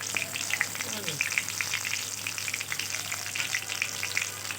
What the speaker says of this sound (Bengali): মোটা করে বেগুনিটা দিচ্ছি